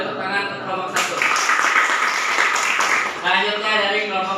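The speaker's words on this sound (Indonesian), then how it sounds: "Tepuk tangan untuk kelompok 1." Classroom applause for a presenting student group, a burst of clapping from the class lasting a few seconds with voices mixed in around it.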